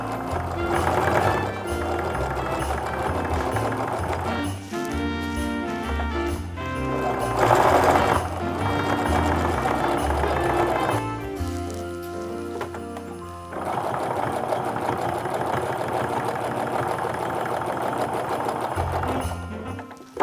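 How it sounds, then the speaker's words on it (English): A sewing machine stitching a canvas apron, running in long loud bursts of rapid mechanical clatter with brief pauses between runs, close and without talk. "I'm just going to continue sewing just as I had"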